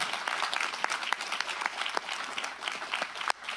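Clapping from a modest audience at a county supervisors' meeting, a steady patter of individual claps, fairly close and moderately loud, tapering off abruptly near the end.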